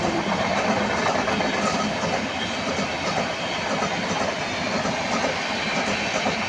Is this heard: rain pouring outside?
no